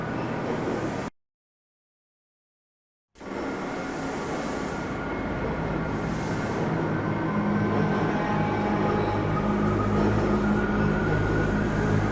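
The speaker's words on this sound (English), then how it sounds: "This train is inbound from Level 3 dormitories" An inbound tram train ride through the Black Mesa facility in the Black Mesa game, a loud steady rumbling hum of the moving car, briefly cut to silence near the start, then resuming with a low drone.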